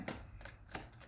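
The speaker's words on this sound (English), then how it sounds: "Last shuffle." A deck of tarot cards is shuffled in a few quick riffling bursts, close and soft, with no talk.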